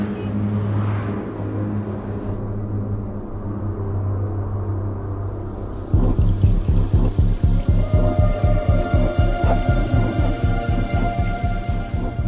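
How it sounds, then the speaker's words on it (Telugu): Heavy rain with thunder in a film scene makes a steady low rumbling wash with no talk. About halfway through, a rhythmic pulsing thump joins it and carries on to the end. "ఏంటో ఈ కుంభవృష్టి."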